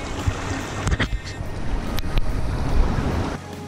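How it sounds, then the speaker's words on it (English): Gold panning in a creek in Cherokee County, Georgia: water swirls and sloshes in the pan with scattered splashes and knocks, close to the microphone, alongside some wind noise, with no speech. "let's pan this out and see what we get"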